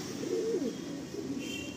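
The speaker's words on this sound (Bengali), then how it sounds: "দুটোই নর, দুটোই ফুলসিরা পায়রা" Two male Fulsira pigeons cooing nearby, a soft low rolling coo repeated in a short warbling phrase over faint background hiss.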